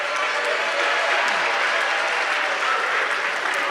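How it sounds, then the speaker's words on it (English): Audience applause at a university career event, a steady wash of clapping from a crowd filling the whole stretch at an even, fairly loud level. "let's give Lerato a big round of applause."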